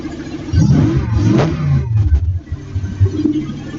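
A car engine runs close and loud with its idle speed hanging too high, giving a steady mid-pitched drone that rises and falls a little over a few seconds. No one speaks.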